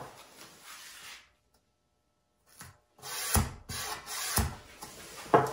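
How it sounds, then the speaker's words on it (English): Tape pressed and rubbed firmly onto a wooden cheeseboard, heard as close, dry rubbing strokes in short bursts, with a quiet pause in the middle and stronger, rhythmic swipes toward the end. "You want to make sure you press it down really well because you don't want any epoxy to seep underneath."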